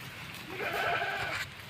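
A goat bleats once at moderate distance on a farm, a wavering cry that lasts about a second over steady background noise.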